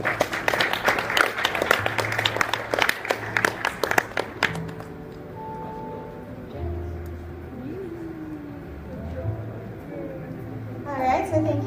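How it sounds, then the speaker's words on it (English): Audience at a national cybersecurity plan unveiling applauding, a crisp burst of clapping for about four seconds that then stops, followed by quieter room noise and voices. "Another round of applause,"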